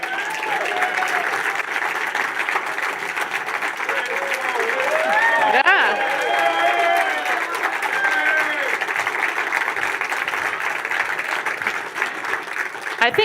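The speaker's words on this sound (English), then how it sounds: "Tom, I think you got more applause than I did." A big rally crowd on the America the Great tour in Ohio applauds as Tom Homan, former ICE director, comes to the stage: thick, continuous clapping with cheers and whoops rising in the middle and voices mixed in.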